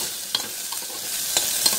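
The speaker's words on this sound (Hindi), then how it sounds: "तड़का लगा के" Spices tempering in hot oil for kadhi, frying and sizzling steadily while a spoon stirs the pan, with a few sharp clinks standing out above the constant hiss.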